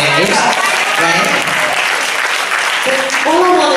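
Loud audience applause at a live event honoring a legendary long-running show's host, dense sustained clapping with cheers and whoops rising over it near the end.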